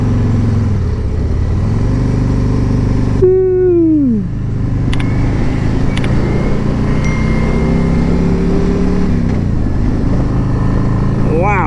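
A 2022 Harley-Davidson Tri Glide CVO trike with a 117 motor rides steadily at Daytona Bike Week, a constant close engine drone with shifting pitch and a brief whine, while a rider talks over it.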